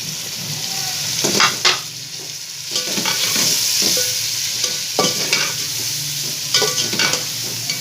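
Tomato, red chilli, salt, coarsely crushed whole coriander and turmeric frying together as a masala base for mixed vegetable salan, a loud, close sizzle broken by repeated spoon-stirring scrapes and clatters against the pot, no voices.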